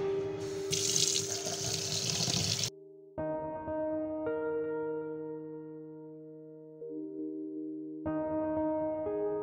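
Water runs from a kitchen tap as rice is washed in a pot, a steady splashing stream that cuts off briefly, then returns as a lower, tonal flow filling the vessel before the stream swells again.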